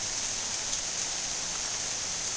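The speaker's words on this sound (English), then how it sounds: "It's raining." Steady rain falling on a rainy day at an outdoor construction site among Leyland cypress trees, a soft, even hiss with no distinct drops standing out and no voices.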